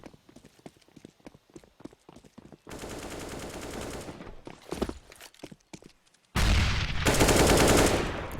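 Counter-Strike gunfire on the Inferno map: rapid clicks and footsteps, then sustained loud bursts of automatic fire, a pause and a final heavy volley that includes a headshot.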